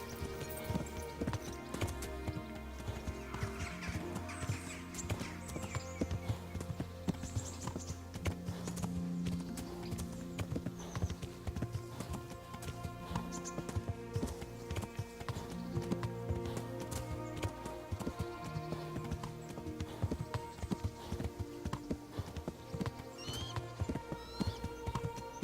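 Horse hooves clip-clop steadily in Kingdom Come: Deliverance, a regular trotting rhythm running throughout under game music, fairly quiet and without talk.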